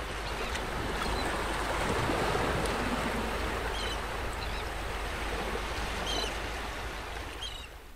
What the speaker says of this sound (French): Comme par exemple avec le son de ces vagues.